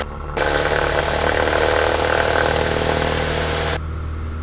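Cessna 172 Skyhawk single-engine piston aircraft going to full power on takeoff, a loud steady engine roar and propeller drone that swells in abruptly, holds constant and eases back near the end.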